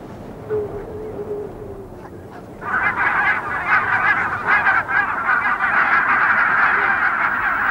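Barnacle geese migrating between Greenland and Islay, Scotland, honking in a loud, dense flock chorus that swells in after a brief quieter start and continues steadily.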